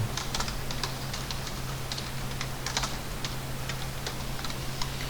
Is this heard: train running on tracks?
no